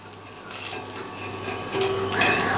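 A bun dosa is flipped on a pan, with faint metallic scrapes and light clatters of a spatula against the pan, spread over a quiet kitchen background.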